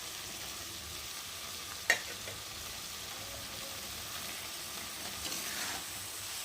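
Shrimp and water lily stems frying in a pan give a soft, steady sizzle with faint stirring scrapes and one sharp clack near the start, heard alone with no talking.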